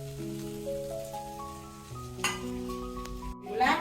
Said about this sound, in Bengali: সেই কড়াইতে আমি নারকেল গুঁড়া, ফুল গুঁড়া দিয়ে দিচ্ছি